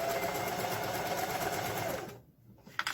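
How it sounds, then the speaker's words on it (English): A sewing machine back stitches a fabric seam with a steady, close mechanical whir, then briefly stops before a sharp click and the motor starting again. "The second seam, just going to back stitch."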